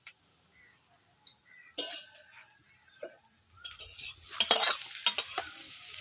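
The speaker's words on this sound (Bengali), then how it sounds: "জগা ডম্বুর ভাজা হয়ে যাচ্ছে" Fig (dumur) stir-fried in a pan, with sporadic spatula scrapes and clinks over a faint sizzle that builds toward the end, near and fairly quiet.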